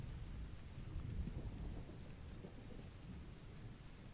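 Steady rain with a low rolling rumble of thunder in the interactive fiction game Anchorhead, a continuous dense wash of storm noise at low level with no talking.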